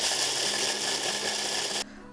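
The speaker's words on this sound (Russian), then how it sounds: "Кукурузные хлопья, самые обычные, насыпаю в блендер." A blender grinds corn flakes loudly with a dense, gritty whir for about two seconds, then cuts off abruptly into near silence.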